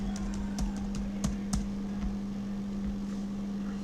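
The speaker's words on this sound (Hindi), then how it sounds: "यहाँ पे पासवर्ड एंटर करेंगे।" Someone enters a password on a computer keyboard, a quick run of light key clicks over a steady low electrical hum, with the typing thinning out after the first couple of seconds.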